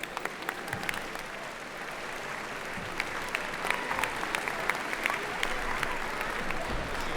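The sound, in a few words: audience applause at a jubilee celebration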